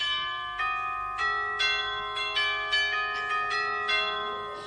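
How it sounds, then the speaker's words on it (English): A game-show doorbell rings out a musical tune, a series of bright bell-like chimes struck roughly every half second, each note ringing on and decaying, clear and fairly close with no talking. "each doorbell plays a tune associated with a celebrity whose door it is"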